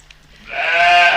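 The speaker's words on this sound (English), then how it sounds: "this is Dolly. A sheep" A cloned sheep gives one rising, sustained bleat that swells to full strength and holds, close and clear, after a quiet start.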